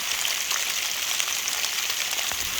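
Pea-sized hailstones fall outdoors in a dense, loud, steady patter with scattered sharper ticks and no talking.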